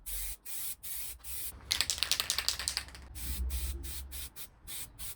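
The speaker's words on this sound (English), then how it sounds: "Keep your can of paint warm, keep it shut, and put a second medium coat on." A spray paint can lays a medium second coat onto plastic car bump strips, heard as a series of close, short bursts of hissing spray in the middle, with quieter hissing passes before and after.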